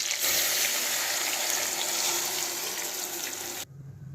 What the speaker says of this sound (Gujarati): હવે આપણે નાખી દઈશું પાણી